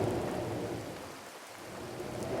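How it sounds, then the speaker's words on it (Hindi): Steady rain with a low rumble like distant thunder or gusting wind runs through a short storm-night scene in a children's story, a constant wash of noise with no voices. "हवाएं भी तेज चलने लगी और अब बारिश रुकने का नाम नहीं ले रही थी"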